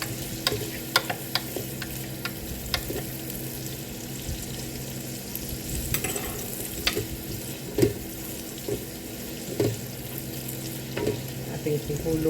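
An egg fries in a pan while a hearty breakfast is cooked, a continuous close sizzle and crackle broken by sharp pops and scraping utensil clicks.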